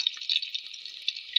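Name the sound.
onions frying with fenugreek in a pan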